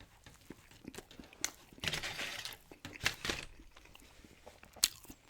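Close, quiet chewing of a Cook Out burger with pickles and ketchup, soft wet bites and crunchy mastication with occasional wrapper crinkles, intimate and low.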